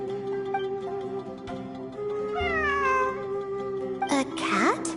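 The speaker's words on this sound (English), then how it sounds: "I'm not hearing things. It really is a cat." A cat meows in the video game Genshin Impact, several rising and falling cries in the middle and at the end, over steady game music.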